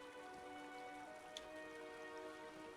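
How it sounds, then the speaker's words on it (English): A waterfall fountain in a courtyard of an Elder Scrolls Online player house, giving a steady, soft splashing and trickling of falling water with a faint tonal hum under it and no talk. "The waterfall fountain."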